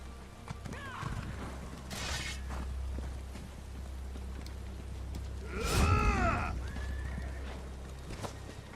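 A horse neighs in The Elder Scrolls Online, a whinny rising around the middle over steady game ambience, with brief hoof clip-clops and a voice speaking nearby.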